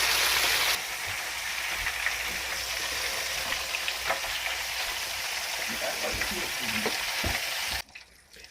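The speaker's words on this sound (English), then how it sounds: "So we're getting ready to put our fish in, and I'm going to use my fryer again." Small fish deep-fry in an oil-filled fryer, giving a loud, steady, crackling sizzle that continues unbroken and then cuts off abruptly just before the end.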